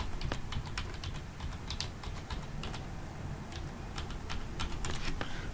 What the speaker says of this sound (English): I'm trying to type it in right now.